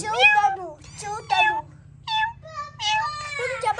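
A new pet cat, one of two, meows close up: several drawn-out, wavering meows in a row with short gaps between them, loud against a faint low hum in a quiet home.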